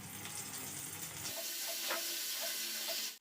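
Onion, ginger and garlic paste frying in a pan for jackfruit kopta curry, a soft, close sizzle with light crackles, faint and steady for a few seconds.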